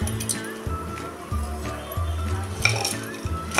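A spoon scrapes and clinks against a pan as crushed roasted mixed-lentil sandge is stirred in oil, with repeated metallic taps and soft frying sizzle, no talking.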